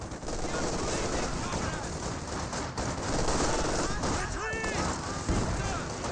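Sustained battlefield gunfire from a unit force firing at sandbags in Company of Heroes 2, dense rattling bursts layered over a constant din, with a commentator talking throughout.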